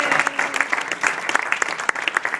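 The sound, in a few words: audience applause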